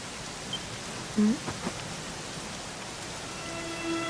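Steady rain falls in a Dragon Quest XI game scene as an even hiss with faint scattered drop sounds and no one speaking.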